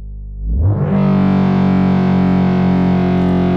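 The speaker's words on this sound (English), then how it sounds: "you can hear when the oscillator is going through that filter, you can hear it's got more harmonics" A buzzy synthesizer oscillator tone, passed through a distortion filter, swells in after a brief low rumble, then holds steady and loud, thick with gritty distorted harmonics, like a foghorn.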